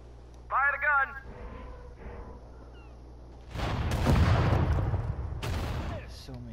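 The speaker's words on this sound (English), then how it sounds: "Fire the gun!" Artillery fire in the WW2 strategy game Sudden Strike 4 during the Iwo Jima invasion: a loud, rumbling burst of cannon fire with a second blast shortly after, following a brief voice line.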